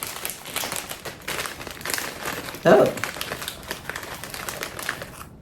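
A Japanese snack bag crinkles and rustles as it is cut open with scissors, with one louder crunchy burst partway through.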